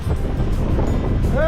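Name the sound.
cold wind blowing in the Himalayas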